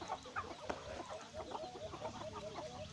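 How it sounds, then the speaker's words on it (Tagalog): Chickens cluck close by in a busy, uneven chatter of short calls, with faint farmyard background noise, at a rural poultry farm in the Philippines. "Kanino manok yan?"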